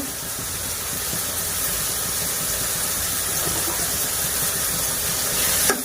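Ginger garlic paste frying in a pan for a village-style mushroom and beans curry, giving a steady, close sizzle and hiss that runs evenly throughout with no talking.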